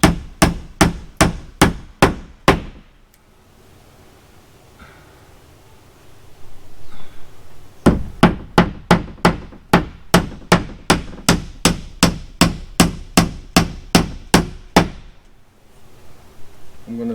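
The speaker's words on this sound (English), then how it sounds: "I'm going to finish nailing it," Hammer blows drive nails into T1-11 plywood siding in a steady, loud series of sharp strikes, about six quick hits, a pause with faint background noise, then a longer run of roughly fifteen evenly spaced blows.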